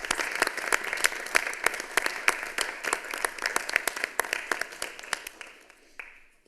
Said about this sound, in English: let's give our police department a big round of applause